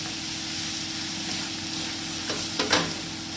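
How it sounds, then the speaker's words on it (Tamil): Chopped tomatoes sautéing in a pan, a steady close sizzle that holds evenly throughout, with a few sharp spoon scrapes and taps near the end. "தக்காளி கொஞ்சம் வதங்கட்டும்"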